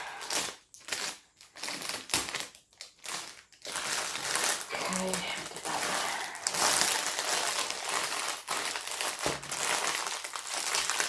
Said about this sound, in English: So I apologise for the rustling.